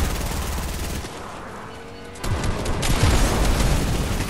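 Gunfire in Fortnite: a steady rattle at first, a brief quieter gap, then dense, loud bursts of automatic fire returning and continuing to the end.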